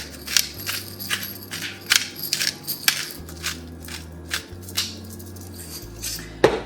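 A utensil stirs spices like salt and black pepper into a pot of shepherd's pie soup, with repeated clinks and scrapes against the pot at an irregular rhythm, close and fairly loud.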